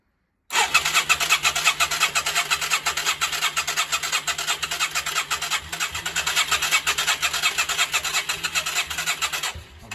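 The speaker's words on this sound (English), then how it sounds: "I've not given it any choke, that's why it's not starting." The starter of a Yamaha XV535 Virago motorcycle cranks its engine without it firing, a steady rapid whirring churn that runs for about nine seconds, close and moderately loud, then stops.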